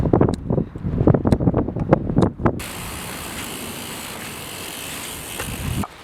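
Wind buffets a microphone outdoors at a riding compound, a steady broadband roar that takes over after a few seconds of clattery rattling and runs continuously to the end.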